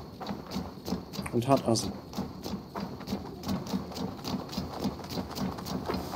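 Horse hooves clip-clop at a steady trot in the video game Assassin's Creed Valhalla, a regular rhythmic beat close up, while someone talks over it.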